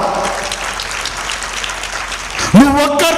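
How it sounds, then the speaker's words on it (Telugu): Applause rises from the audience at a Telugu Christian testimony gathering, a short burst of clapping that swells near the end as a voice speaks over it. "చప్పట్లు కొడదామా?"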